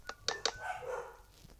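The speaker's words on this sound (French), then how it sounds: "s'il y a mes chiens qui hurlent" Dogs bark inside a home, likely at someone arriving: three sharp, close barks in quick succession, followed by a softer, trailing yelp or whine that fades out.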